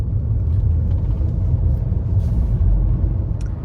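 A Mercedes W124 with mud in its fuel tank idles toward a stall while its brand-new fuel pumps strain. A steady, heavy low rumble holds close and loud throughout.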